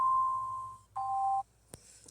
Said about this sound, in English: But my alarm's going off.